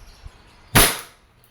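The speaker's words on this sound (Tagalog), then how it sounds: "Chrono testing. Firing." A single sharp shot from an E&C Glock 17 Gen 5 airsoft pistol fired through a chronograph, one crisp snap with a short decaying tail, fairly close, alone in a quiet room.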